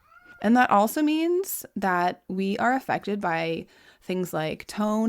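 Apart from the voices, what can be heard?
cat meowing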